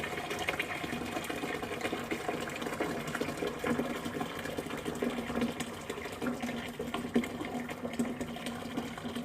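Herbal root tonic pours through a strainer into a pot, a continuous close trickle and splash of liquid holding steady for several seconds without speech.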